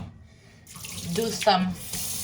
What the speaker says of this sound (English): I'm doing warm water from the faucet